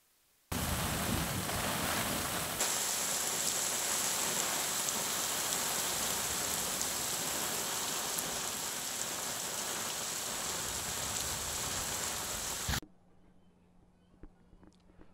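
Heavy rain pours down steadily in West Prakasam, a dense, loud hiss that holds for about twelve seconds before cutting off abruptly to near quiet.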